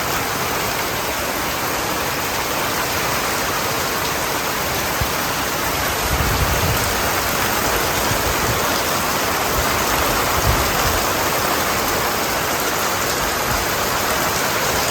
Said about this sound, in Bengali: সেইরকম বৃষ্টি হয়েছে